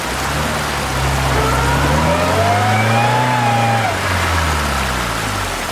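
A UAZ 4x4 off-road vehicle revs its engine hard on a rough dirt track, the loud motor note rising and falling steadily through the whole stretch with no talk over it.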